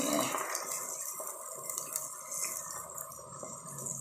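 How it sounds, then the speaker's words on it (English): Chicken broth is stirred into a pot of chicken paprikash, giving a steady, soft swishing and scraping with a faint liquid hiss throughout and no voices. "Stir it in."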